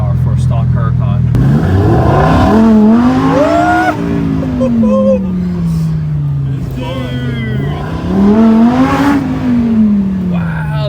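A stock Lamborghini Huracan Tecnica, around 640 horsepower, revs hard and accelerates in loud rising-and-falling engine sweeps, with an apparent tire chirp at the start and people talking over it.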